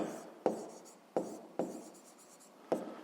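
Pen strokes scratching on paper while solving a fifth-grade maths exercise, four sharp taps of the pen landing among steady faint scraping, close and quiet with no voice.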